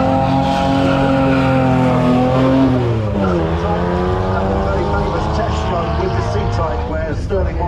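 A Jaguar C-Type race car engine roars loudly at the Kop Hill Climb start line, a strong harmonic drone that dips and rises as it revs, with a voice talking over it.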